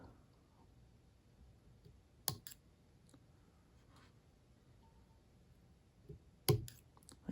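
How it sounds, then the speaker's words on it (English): Scissors trim the thread tag ends on a herl nymph fly: two short, crisp snips several seconds apart, close and quiet against near silence, with no talking. "we'll snip off the tag ends"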